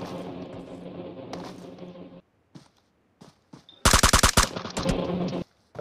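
Gunfire in the BGMI battle royale game, bursts of rapid automatic shots with pauses between them, the loudest volley sharp and close near the end.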